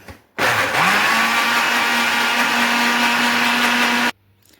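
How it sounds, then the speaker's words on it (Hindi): A kitchen blender motor, making mayonnaise, whirs up and runs loudly and steadily for several seconds, then cuts off abruptly. "अभी हम ब्लेंडर चलाते हैं"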